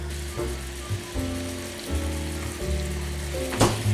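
Pork chops sear in bacon drippings with onion in a pan, giving a steady, moderately loud sizzling hiss with a low hum beneath and a brief sharper crackle near the end.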